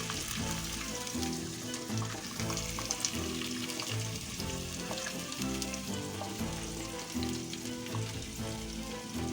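Onions sizzle and crackle steadily in hot oil, close up, alongside a dish of rohu fish head and cabbage, with a continuous frying hiss and no speech.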